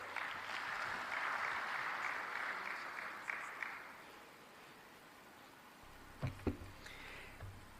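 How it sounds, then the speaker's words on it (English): Applause from the audience at a coffee-producing nations summit in Dar es Salaam, following the reading of a signed declaration: a faint, steady wash of clapping that thins out toward the end, with a few scattered louder claps and rustles. "I believe a bigger round of applause would do."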